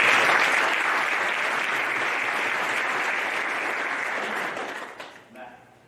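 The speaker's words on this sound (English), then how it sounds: "Please give him a round of applause." A banquet crowd at a sports hall of fame dinner breaks into dense, sustained applause that holds steady and then tapers off near the end.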